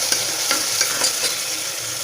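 Onions and green chillies fry in a pan with a steady bright sizzle, while a spatula stirs through them in regular scraping strokes about every quarter second.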